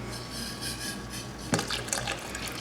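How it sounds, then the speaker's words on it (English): Hot water from a pot boiled on the stove is poured into a homemade sous vide water bath, a low trickle that turns into a louder splashing pour midway, with no talk over it. "I'm going to go ahead and leave this in here and add some of this nice hot water"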